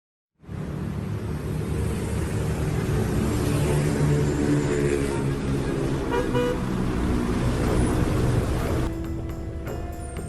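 Traffic in a Jakarta jam: motorcycles and cars honk almost without a break, with overlapping horn toots above a constant engine rumble.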